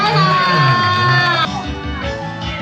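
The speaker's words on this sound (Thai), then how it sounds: "ขอเสียงปรบมืออีกครั้ง" A crowd at a live event cheers and whoops loudly, with shouting voices and clapping mixed into a dense roar that drops slightly partway through but continues to the end.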